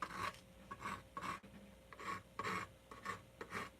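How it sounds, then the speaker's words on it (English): A palette knife scraping oil paint on a painting surface: a quiet, close rasping in about eight short, rhythmic strokes with brief pauses between them, and no voice. "And just taking the palette knife, and you can just scrape off as well too"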